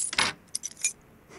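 Keys jingle and rattle as they are picked up in the video game Frequency Missing, a short bright metallic jangle in a few quick bursts, close and clear with no talking.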